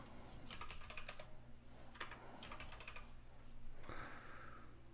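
A password is typed on a computer keyboard in quick bursts of soft, close keystrokes with short pauses between them. A brief faint chirp comes near the end.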